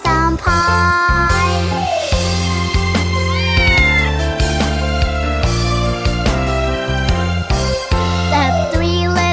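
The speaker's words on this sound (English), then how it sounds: "Meow, meow, meow, meow" Kittens meowing in a children's nursery song about three little kittens and their mittens, repeated sung meows over bouncy music, loud and rhythmic.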